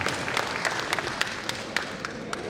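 An audience at a public gathering addressed by a deputy speaker claps steadily, a dense patter of many hands with occasional sharper claps standing out, continuous throughout.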